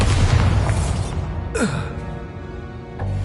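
A Bombarda spell explodes in the Hogwarts Legacy video game, a sudden burst near mid-clip with a falling whoosh tail, set against a steady low rumble of game ambience and a smaller thud at the end.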